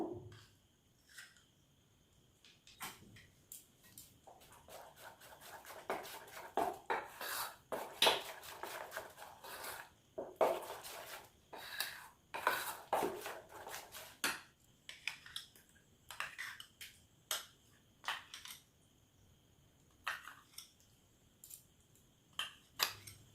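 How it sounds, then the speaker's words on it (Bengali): Palm fruit pulp being mixed into semolina in a bowl, with a spoon clinking and scraping against the bowl in irregular, close bursts throughout and no talking. "এটা সুজিটার সাথে মিশিয়ে নিচ্ছি। তালের পাল্পটা অল্প অল্প করে মেশাবো।"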